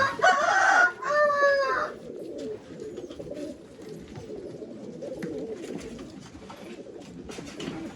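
Old-line pigeons kept for sale in a loft in Bangalore call and coo. A brief burst of loud, harsh calling opens the clip, then softer murmuring bird sounds continue over background noise.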